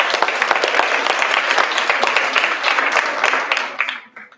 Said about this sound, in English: a round of applause for Kate